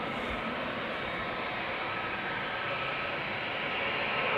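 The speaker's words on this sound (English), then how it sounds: "Now the A380." A steady, loud roar from an Airbus A380 airliner at Amsterdam Schiphol Airport, a broad engine rush holding constant and swelling slightly toward the end, no talking over it.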